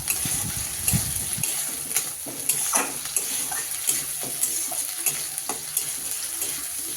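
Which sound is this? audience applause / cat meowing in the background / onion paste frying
onion paste frying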